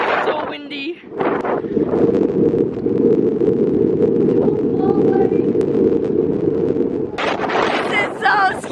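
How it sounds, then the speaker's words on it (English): Strong, steady wind roars and buffets the microphone throughout, a loud continuous rumble with voices breaking through near the start and end. "It's so windy."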